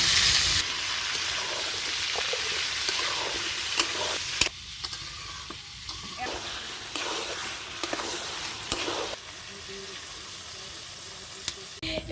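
Potatoes frying in oil in a pan while being stirred, giving a steady close sizzle with scraping stir strokes that drops in level partway through.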